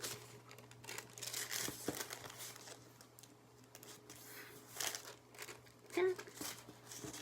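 Paper creased and folded by hand while shaping an origami lotus, soft crinkling and rustling close by with a few sharper crackles, heard under ongoing talk.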